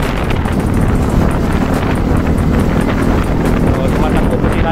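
Strong wind roars continuously against the microphone while riding alongside classic motorcycles at about 50 km/h, a loud, dense, unbroken buffeting that masks everything else.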